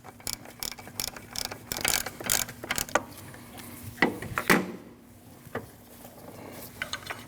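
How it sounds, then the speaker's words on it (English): A ratchet tightens a bolt through an alternator bracket and adjuster on a 2003-2008 Subaru Forester 2.5L H4, giving close, rapid bursts of clicking with short pauses and a final few isolated clicks. "Now you can start tightening down that bolt while holding the bracket in the back."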